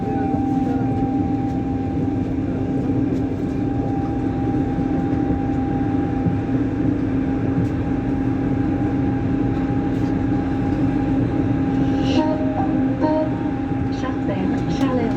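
A Lyon Metro Line B subway train arrives at its terminus, giving a loud, steady rumble with a sustained motor whine and some brief squeaks near the end.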